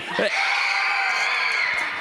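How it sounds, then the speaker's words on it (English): A high school youth group crowd screams together at the top of their lungs on a count of three, a loud, sustained shrill roar of many voices that holds steady for about two seconds. "can I just hear a nice, pleasant, quiet scream at the top of your lungs?"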